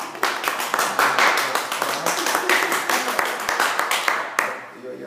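Wedding guests clap after the couple is proclaimed husband and wife, a dense and steady round of applause from a crowd, loud and close. It carries on for about four seconds and then fades.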